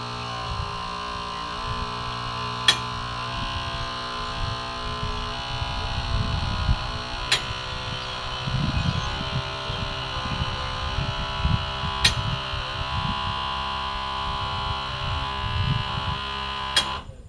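A truck cab tilting up under its electric lift button gives a steady mechanical motor hum with a low rumble, and a few sharp clicks spaced several seconds apart.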